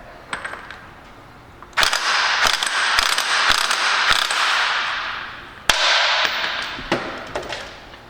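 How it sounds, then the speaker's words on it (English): Pneumatic impact wrench loosening the front sprocket nut on a motorcycle during a chain replacement, with a few short taps, then a loud sustained rattling hammer burst, a brief pause and a second burst, close up. "I'm going to go ahead and impact it off"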